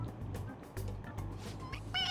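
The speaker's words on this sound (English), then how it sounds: "It meows when you press on its head." A stuffed toy cat in the Persona 5 Royal video game lets out a short synthetic meow when its head is pressed, heard near the end after quiet background.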